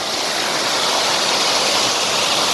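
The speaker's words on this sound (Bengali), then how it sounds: "জলটা এখান দিয়ে যাচ্ছে" A mountain stream near Darjeeling rushes steadily, a dense, continuous hiss of flowing water close by with no voices.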